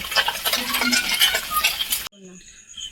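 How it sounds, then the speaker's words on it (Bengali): Reddened, crisp fish fry in a pan with busy close sizzling and spatula stirring for about two seconds, then the sound cuts off abruptly to near quiet. "মাছগুলো তো লাল লাল হয়ে ভাজা হয়ে গেছে হ্যাঁ ভাজা তো হয়ে গেছে"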